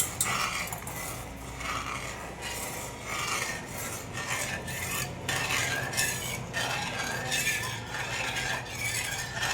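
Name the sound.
stirring cornflour mixture into melted sugar for Bombay halwa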